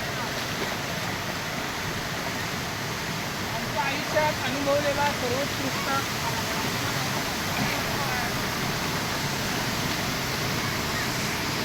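Rain-swollen stream and river in flood in the Konkan after heavy rain, a loud, steady roar of rushing water throughout, with a person speaking briefly over it.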